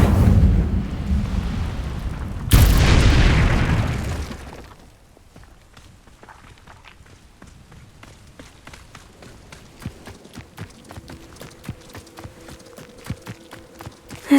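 An Incendio fire spell is cast in Hogwarts Legacy, a loud burst of roaring flame that cuts off sharply after a few seconds, followed by quiet footsteps and faint clinking.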